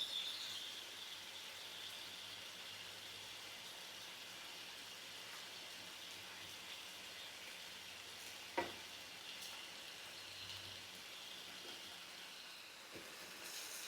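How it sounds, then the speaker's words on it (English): Marinated steak strips fry in a single layer in a hot pan, a steady soft sizzle running throughout with one brief louder tick partway, faint and close with no voices. "The steak will cook pretty quickly, probably about 2 minutes on each side."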